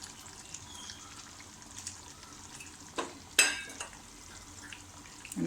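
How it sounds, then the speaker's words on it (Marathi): Prawns drop into a simmering Malvani-style prawn curry with a couple of soft splashes over a steady low bubbling and sizzle; no voices. "आता आपण याच्यामध्ये या ज्या कोळंब्या आहेत त्या आपण टाकूया"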